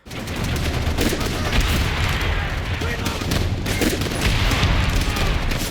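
Battle din from the video game Call of Duty: World at War, where an M14 fitted with a grenade launcher is used: dense, continuous gunfire and booms fill the mix, with speech faintly underneath.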